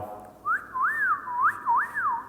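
A two-note wolf whistle, rising then falling, repeated twice in quick succession, clear and fairly close with no talking.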